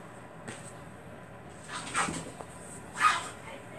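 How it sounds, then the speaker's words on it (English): Two dogs scuffle indoors in a home sewing room, giving a few short yips and whimpering bursts spread over a few seconds, fairly faint under a steady background hum. "Uh-oh, Cinnamon's beating up on Bullet or Jonathan's dog, Buddy."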